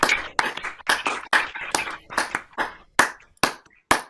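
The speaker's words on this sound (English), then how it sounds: "give Paul a round of applause, please, for his presentation this evening" Scattered claps over an online call after a presentation, a few separate hands sounding sharp, close and uneven, about two claps per second with short gaps between.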